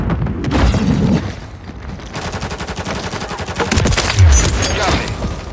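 Sustained automatic gunfire in Call of Duty: Modern Warfare III during a Domination match on Skidrow, with rapid bursts and a heavy boom or two, loud and close amid chaotic battle noise.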